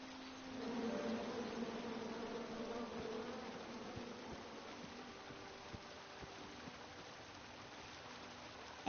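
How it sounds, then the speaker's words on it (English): Angry swarming bees drone steadily in a video game, a continuous buzz that swells in and holds throughout at moderate loudness, with faint clicks scattered underneath. "Come at me, bees!"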